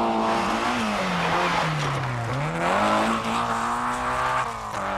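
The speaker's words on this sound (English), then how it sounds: "Ian Rock gives it everything in a little rear-wheel drive Fiesta and scares our cameraman in the process." Rear-wheel drive Ford Fiesta rally car at full attack on a 1992 Northern Irish rally stage, engine howling loud and close with pitch dipping and climbing as it is driven hard, a tire squeal running beneath.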